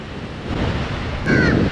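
Surf washing onto a beach near Colombo, Sri Lanka, a steady close wash of waves with wind buffeting the microphone and a slightly louder surge near the end.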